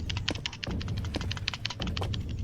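Rapid, dense keyboard clatter, keys hammered in quick irregular bursts, close to the mic with a low hum underneath.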